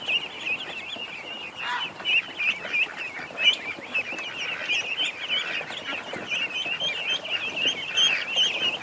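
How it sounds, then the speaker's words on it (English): A crowd of ducks and ducklings quacks and peeps continuously nearby, dense overlapping high calls with some louder honks, no talking. "There's little ducks everywhere."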